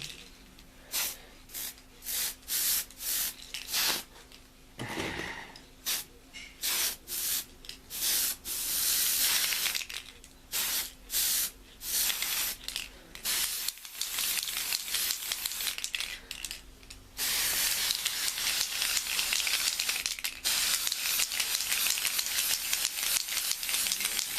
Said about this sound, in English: hopefully there's still enough of this particular color. If I run out of this spray paint, I've got a problem.